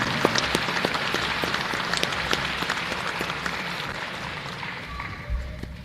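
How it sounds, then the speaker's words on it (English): Steady, dense audience applause at a sports hall of fame banquet honoring past state championship teams, moderately distant and gradually fading toward the end. "give a round of applause for all those previous sports state championship teams"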